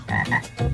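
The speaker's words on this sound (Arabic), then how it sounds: "أو لا، ضفدع" A frog gives a few loud, close, raspy croaks in quick succession, about three short pulses in under a second.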